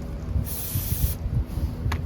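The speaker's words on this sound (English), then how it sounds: "spray some brake cleaner on there" A short, sharp hiss of brake cleaner spray lasting under a second, close by, during a 2010 Ford F-150 brake pad replacement, with faint background rumble before and after.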